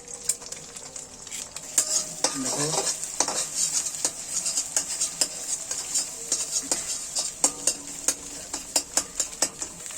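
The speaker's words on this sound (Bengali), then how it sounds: "ডিম ভাজা হচ্ছে" Eggs fry in a pan while a utensil stirs and scrapes, producing repeated metallic taps and clinks over a light sizzle, close up, with a brief spoken word.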